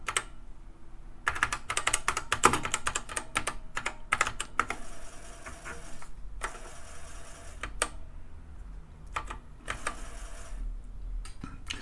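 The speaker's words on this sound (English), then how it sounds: "So I'm using Control S and Control Q here on the keyboard to stop the scrolling and start it." Keys on a Kaypro II computer keyboard clack in irregular bursts of close, crisp strikes with short pauses between groups, and no one speaks.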